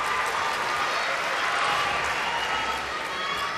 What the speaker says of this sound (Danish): Man kan også høre, at publikum virkelig bakker hende op